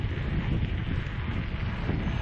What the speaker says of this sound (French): Alors, a priori, il y a un petit vent du sud, donc il doit être plutôt latéral.